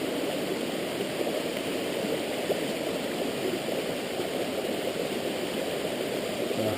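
Water poured into a container at a shelter on the Appalachian Trail during a backpacking trip, a steady, continuous rushing splash that holds at an even loudness throughout.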